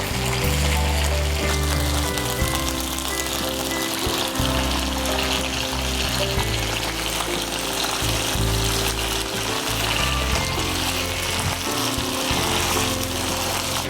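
Karimeen fish frying in hot oil over a bed of curry leaves, a steady loud sizzle and crackle running throughout without talk.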